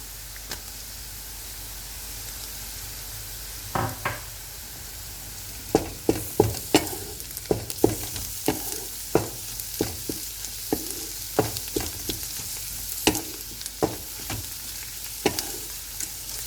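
Close-up stirring of garlic and ginger paste in a hot pan for chicken biryani, with irregular scraping clicks of a spoon over a steady sizzle of frying.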